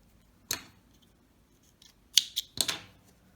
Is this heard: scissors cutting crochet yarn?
yes